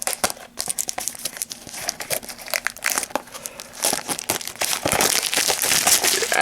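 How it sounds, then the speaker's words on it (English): Plastic wrapping crinkles and tears as it is stripped off a Funko Mystery Minis case box, a steady run of close, loud crackling and rustling bursts with no talk. "this is basically what half the video is going to be, just me getting the plastic wrapping off"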